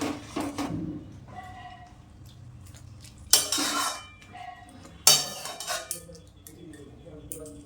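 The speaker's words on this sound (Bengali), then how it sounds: "দিয়ে নেড়ে দিলাম।" Parshe fish curry with potato, brinjal and bori being stirred with fried spices in a pot on a switched-off gas stove, giving a few sharp metallic scrapes and clinks between quieter stretches.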